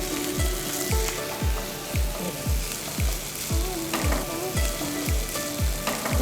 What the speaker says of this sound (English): Now we will put some dry fruits such as the raisins.